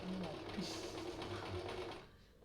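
A Singer sewing machine stitches a shirt collar with a fast, steady mechanical whir running close and continuous, fading at the end, while someone talks over it.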